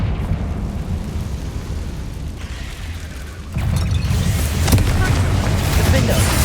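A Confringo spell explodes in Hogwarts Legacy, a loud fiery burst that swells the ongoing roaring combat noise midway and stays sustained afterward, with a voice shouting over it.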